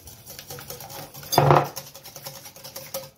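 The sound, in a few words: mixing the quiche filling in a bowl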